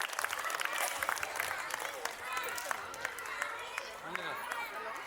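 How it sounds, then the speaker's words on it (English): Dense applause from a school annual day audience, many hands clapping steadily, with voices and chatter mixed underneath. "Let's give them a big round of applause"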